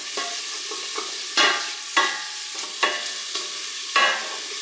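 Onion and bacon fry in a pan under a constant sizzle. Sharp scraping strokes of stirring come about every half second to second, close and clear, with no talking.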